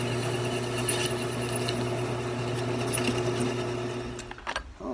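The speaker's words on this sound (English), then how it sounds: "let's go get these holes drilled" A power drill whines steadily while boring holes in metal for a diesel storage tank cradle, close and continuous before winding down near the end; no voices.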